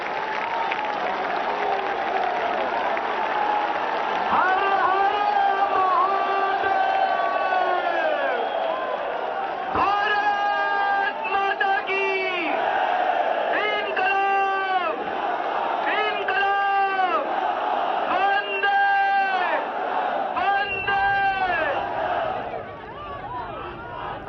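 A large rally crowd claps and cheers for Arvind Kejriwal, loud sustained applause mixed with repeated rising chants and shouts that rise and fall over about twenty seconds.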